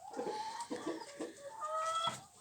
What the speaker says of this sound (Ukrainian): Так що ця курочка буде нестись